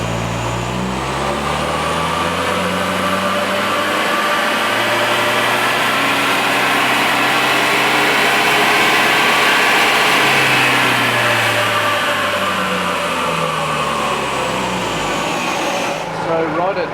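A Toyota Surf's turbocharged engine runs under load on a dyno, a loud continuous drone whose pitch sweeps up and then falls back over about sixteen seconds, with voices audible beneath it.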